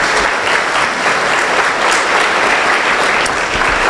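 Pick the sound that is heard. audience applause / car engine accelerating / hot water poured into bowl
audience applause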